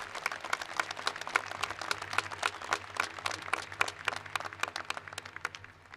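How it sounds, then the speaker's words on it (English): An audience at a high school graduation ceremony applauds the graduating students, a dense, steady wash of many hands clapping at a distance that holds for several seconds and then gradually fades. "give these kids another round of applause"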